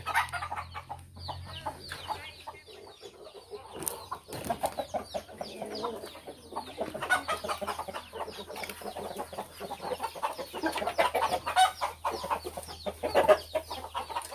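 Laying hens cluck and chatter in a steady, overlapping stream, nearby and moderately loud, kept as egg layers.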